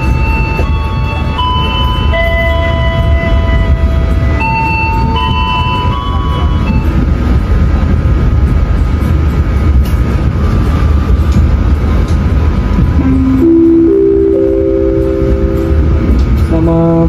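Constant low rumble of a PT Kereta Api Indonesia passenger train rolling on rails, loud and steady, with a melodic chime tone sounding over it partway through, before an onboard announcement.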